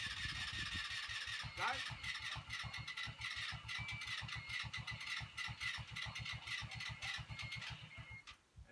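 A Hunter 200cc ATV engine fires up and settles into a steady, rapid idle, its regular low thumping close and loud throughout, with a brief word spoken over it near the start.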